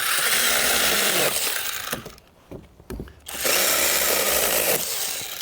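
An IMOUM 21V cordless electric chainsaw revs loudly and cuts through a small branch, easing off briefly in the middle before the motor whines up again, close and without talk.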